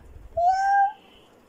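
A voice imitating a cat with one drawn-out, rising meow, close and clear against a quiet background.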